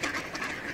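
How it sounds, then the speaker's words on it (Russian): Ducks and drakes being fed bread by the Orlik river near a dam and suspension bridge give brief, faint quacks and fowl calls, short and distant. "А теперь кормлю уточек."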